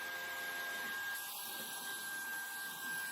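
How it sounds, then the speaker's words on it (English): A Vax Blade 2 Max vacuum cleaner runs with its rotating brush head, producing a faint, even motor whir that holds steady for the whole short stretch, with no voices. "I have the rotating head on when it's on carpet, and then I turn that off when it's on hard floor to protect my hard flooring."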